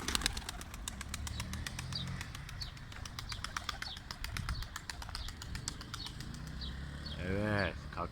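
A young homing pigeon released on a training flight beats its wings in a rapid, steady flutter, with faint chirps around it and a brief voice near the end.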